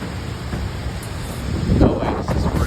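A thunderstorm fills the air with a dense wash of heavy rain and wind, and a deep roll of thunder swells near the middle before easing back into the steady downpour.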